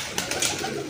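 Brief burst of pigeon cooing from Iraqi or imported birds: a few soft, overlapping throaty calls over a steady background hum.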